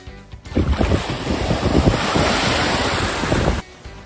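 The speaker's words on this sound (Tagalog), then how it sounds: "andito kami ngayon sa dagat" Sea waves and wind at a beach, a dense roaring wash of surf with heavy wind buffeting the microphone, starting and stopping abruptly, no voices.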